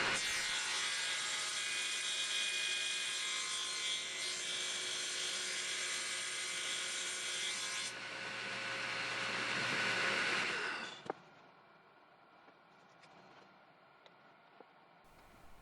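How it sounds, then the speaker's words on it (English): A power saw cuts stacked wooden chair-leg stock to length at a 5-degree bevel. It makes a loud, steady broadband roar for about eleven seconds, then cuts off to a quiet background with a few faint knocks. "I have the stock temporarily attached together so I can mock it up and cut it to length with a"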